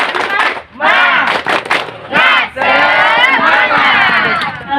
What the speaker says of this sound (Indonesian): Semuanya tepuk semangat.